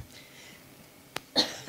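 A single adult human cough, fairly close, a short sharp burst followed by a louder throat-clearing cough about a quarter second later, over a quiet room.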